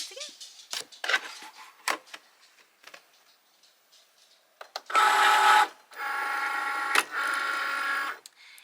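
A Cricut cutting machine whirs in several motorized bursts, a steady buzzing carriage movement preceded by scattered clicks and taps as material is loaded.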